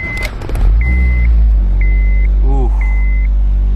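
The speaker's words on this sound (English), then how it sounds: "that's a cold start." A 2019 hybrid car with about 145,000 km and a suspected exhaust leak cold-starts at a dealership. A loud, deep engine rumble comes up and holds steady, with a chime beeping at regular intervals inside the cabin.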